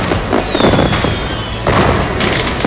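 Fireworks burst over Beijing in dense, continuous crackling and booming, loud and close throughout, with a faint whistle trailing across the middle and no talk.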